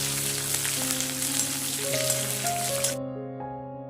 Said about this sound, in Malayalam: ചൂടായി കഴിയുമ്പോൾ ചുവന്നുള്ളിയും ആവശ്യത്തിന് വേപ്പിലയും ചേർത്തൊന്ന് ഇളക്കാം